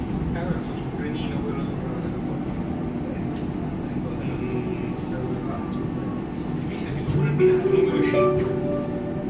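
The H-Bahn suspended skytrain runs at Düsseldorf Airport, heard from inside the cabin as a steady low rumble and hum from the moving car, with a faint whine and a small swell in level near the end.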